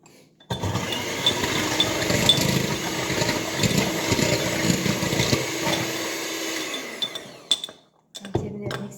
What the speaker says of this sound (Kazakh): Одан соң бізге сразу 2 жұмыртқа. И осыны әдемілеп миксерлеп аламыз.